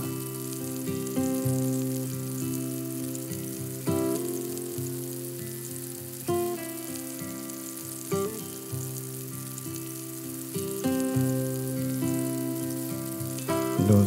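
Hake medallions fry in a pan with a continuous low sizzle, heard beneath a steady background music track.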